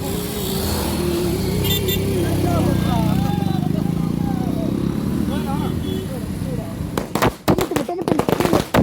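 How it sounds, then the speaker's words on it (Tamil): Firecrackers go off outdoors during a Thaipusam trip toward the Palani Murugan temple, with a rapid string of sharp, loud cracks arriving late, after a stretch of people talking and vehicle noise. "வெடிய வெடிக்க போறான்"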